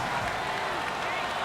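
Stadium crowd roaring in Madden NFL 19 during a Colts versus Rams game, a dense, steady wall of cheering and noise that fills the whole stretch without letting up.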